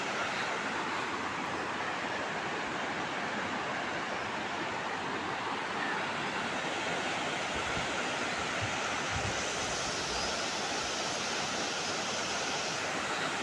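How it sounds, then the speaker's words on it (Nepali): A fast-flowing wild river rushing nearby, a dense, loud, unbroken roar of churning water with occasional low gusty thumps, no voices. "खोला चाहिँ एकदम बवाल रहेछ"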